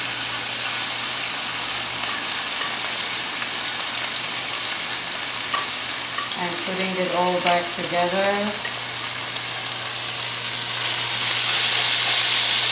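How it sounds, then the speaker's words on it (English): Eggplant sizzles steadily in oil in a pan as it is double-fried for an eggplant and whey dip, a continuous crackling hiss with brief stirring scrapes midway; a voice speaks briefly over it. "It's kind of like double frying it."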